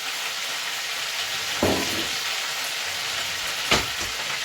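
Chicken pieces sizzle loudly in a hot pan for a stir fry, a steady, close frying hiss with two short, sharper spits as more pieces go in.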